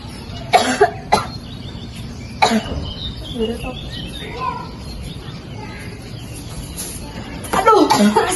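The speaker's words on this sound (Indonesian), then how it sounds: "Batuk." A man coughs in short, harsh bursts after smoking a morning cigarette, with a few separate coughs near the start and a rougher cluster at the end, birds chirping faintly outdoors between them.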